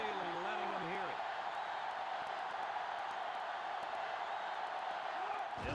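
Stadium crowd noise from the NCAA Football 2005 video game, a steady dense roar sustained throughout, with a voice speaking briefly at the start.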